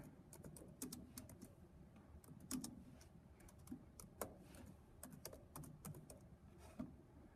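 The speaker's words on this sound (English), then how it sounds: "So we're going to click back over to EasyBib and type in the author's name." Someone types on a computer keyboard, producing quiet, irregular bursts of key clicks with short pauses between them, close by and faint.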